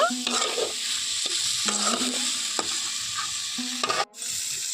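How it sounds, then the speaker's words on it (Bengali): Fried potatoes and figs stir-fried in spice paste for a Bengali fig and prawn curry, a close, loud sizzle broken by repeated spatula scrapes against the pan in an uneven rhythm, with no talk. "এখন খুব ভালো করে সমস্ত উপকরণ একটু এই মশলার মধ্যে কষিয়ে নেব"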